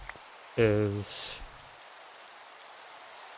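Steady rain falling in the video game Minecraft, a soft continuous hiss lasting throughout, with a short burst of speech near the start.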